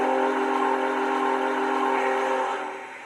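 An MTH model train Big Boy steam locomotive whistle sounds one long, steady, chord-like blast, loud and close, fading slightly at the end.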